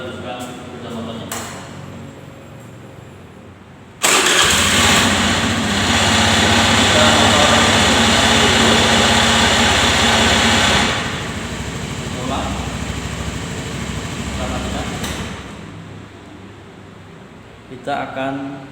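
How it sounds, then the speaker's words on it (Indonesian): A motorcycle engine cranks and catches after a few quiet seconds, then runs at a loud, steady idle that eases a little toward the end, with small clicks before and after. "Kemudian kita coba hidupkan sepeda motornya."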